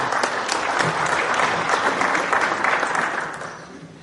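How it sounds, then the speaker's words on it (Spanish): An audience applauds steadily to welcome a speaker at a conference panel, a dense sustained clatter of many hands that tapers off near the end. "recibamos con un fuerte aplauso al señor Fernando Eguren"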